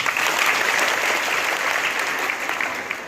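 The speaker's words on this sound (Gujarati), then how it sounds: "ચલો ભાઈ માર તાળી પાડો બધા" An audience at a school Bhavai folk-theatre event claps together in steady, dense applause that stays loud and close for the whole stretch, tapering slightly at the end.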